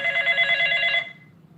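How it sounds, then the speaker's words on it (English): A telephone rings with a bright, trilling electronic bell, one loud close burst that stops abruptly after about a second, leaving quiet room tone. "we got a phone call"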